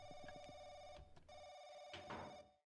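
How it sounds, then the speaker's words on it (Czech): A telephone rings in a horror video game: a few quick electronic bell trills, then a pause, then another ring burst, clear and fairly loud against a quiet background. "Telefon."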